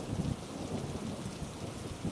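Heavy monsoon rain pours down steadily in a dense, wide hiss, with deep rumbling thunder rolling underneath throughout, no voices present.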